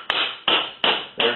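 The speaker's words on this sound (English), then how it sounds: "Let's give it some tappy tappies on the shaft." A hammer taps a metal shaft while a Subaru tumble generator valve is being gutted: four sharp, ringing metallic strikes at an even pace, close and fairly loud, with no talking.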